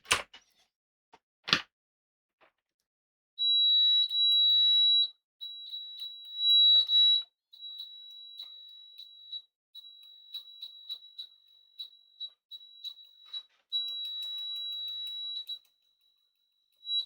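An HP bench multimeter's continuity buzzer gives a series of high, clean beeps, some long and steady, others short and choppy, in an otherwise quiet room.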